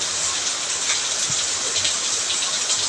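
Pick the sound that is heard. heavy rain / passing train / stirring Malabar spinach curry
heavy rain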